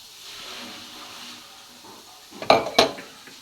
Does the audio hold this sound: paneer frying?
yes